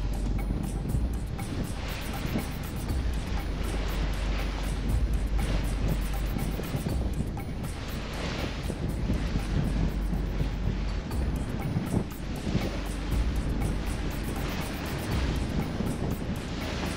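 Steady wind buffets the microphone while waves wash and slap around a sailboat beating straight into the wind at sea off Florida, a continuous rough roar with no voices.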